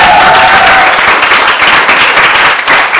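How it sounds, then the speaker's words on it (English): A crowd at a live music event gives the judges a loud round of applause, close, dense clapping with sharp individual claps that continues steadily throughout. "can we have a round of applause to the judges"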